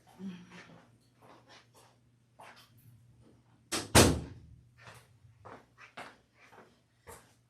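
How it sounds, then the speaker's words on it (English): A door closing indoors, one sharp, fairly loud thunk that stands out among quieter scattered knocks and shuffling room sounds. A low steady hum runs underneath. "Let me close my door real quick."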